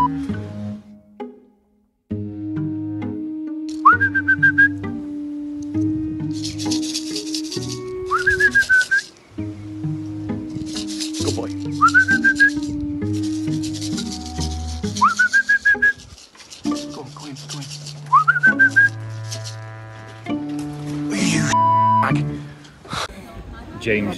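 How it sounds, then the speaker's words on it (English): A person whistles short rising notes, repeated about five times at regular intervals, over layered tonal background sounds and occasional rustling. "You're not whistling quite right."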